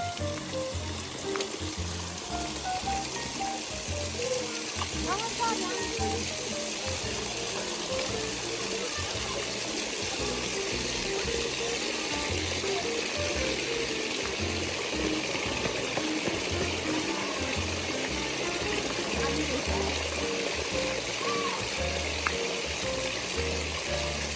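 Water pours continuously from a stone water spout in Pokhara, Nepal, making a steady, fairly close rushing splash that never lets up for the whole stretch.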